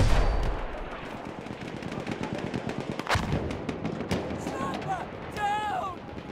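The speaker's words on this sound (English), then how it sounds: "Let's drop a mortar there." Mortar and gunfire from Battlefield 1 crack through a battlefield din, with a heavy blast partway through, rapid shots throughout, and whistling shells near the end, with voices underneath.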